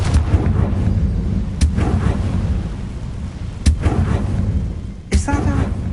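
A Confringo spell blast in the video game Hogwarts Legacy lands as a few deep, booming thuds over a dense low rumble, with a voice speaking during the clip.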